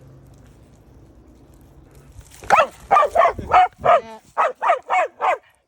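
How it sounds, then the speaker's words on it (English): Out in a park in Canadian nature, a dog lets loose a run of about ten loud, close barks in quick rhythm after a quiet stretch of low background noise, with a brief spoken word near the start. "I think there's another dog approaching us"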